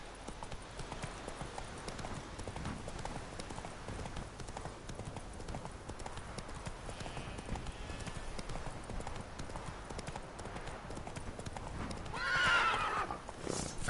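Roach the horse gallops with rapid, rhythmic hoofbeats that run steadily throughout, ending in a louder whinny near the close, in the Witcher 3 video game.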